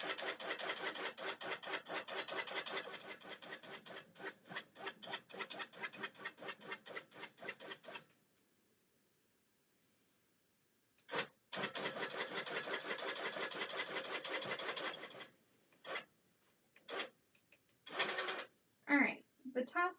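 A longarm quilting machine basts a football quilt top, its rapid mechanical stitching running steadily and close for several seconds, then pausing in near silence before resuming in longer and shorter bursts.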